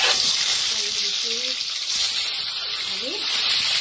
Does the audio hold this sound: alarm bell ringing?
no